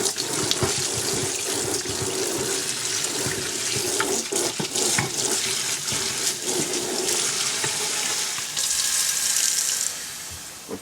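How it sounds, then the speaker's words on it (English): Water pours steadily into a cooking pot of chicken stew, a continuous splashing rush that grows brighter and fuller toward the end, with no voices. "Then you add water to this because you have to get all the juice from out of here"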